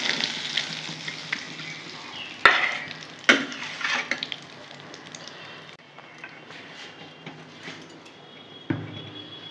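Small puti fish frying in hot oil in a pan for a Bengali teljhal, a steady close sizzle and crackle with a few sharp clinks and stirring scrapes, no voices.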